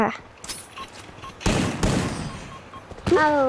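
Gunfire in the video game Free Fire comes as loud bursts of shots, mixed with game sounds and a rising tonal effect near the end.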